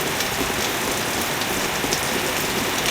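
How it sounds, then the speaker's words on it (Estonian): Steady rain falls and patters on surfaces close by, a dense even hiss with scattered individual drops, no voices and no thunder. "see on nagu rohkem vihm vist"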